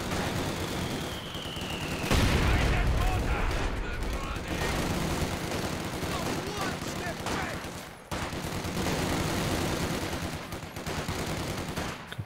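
Machine gun and cannon fire in a Company of Heroes 2 multiplayer battle, with dense overlapping bursts and booms that continue throughout. A commentator talks over the battle noise.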